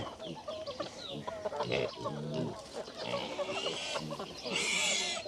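Pigs and chickens jostle at feeding time on a farm, a busy mix of grunts, squeals and clucking with wing flutters. A man calls to the animals throughout.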